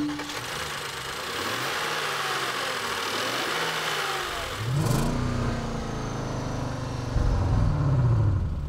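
2015 Hyundai Genesis with all-wheel drive powering out of a corner through water, its engine humming steadily, then rising in pitch as it accelerates, with a wash of spray and road noise around it.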